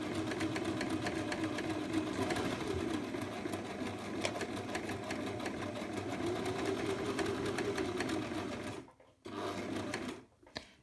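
A sewing machine stitching fabric for a fabric basket, running close in a fast steady whir, then pausing briefly and running again in short bursts as it backstitches at the end of a seam.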